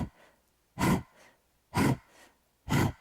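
Rapid pranayama belly breathing, panting like a dog: three sharp, forceful breaths at an even rhythm, each followed by a fainter breath, close and clear with no talk over them.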